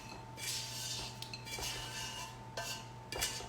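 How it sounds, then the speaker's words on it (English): A wooden spoon scrapes and clinks against a pot while scooping out bacon, giving a handful of scattered scraping strokes and light knocks at a soft, close level over a steady background hum. "Just gonna use my wooden spoon to scoop it out"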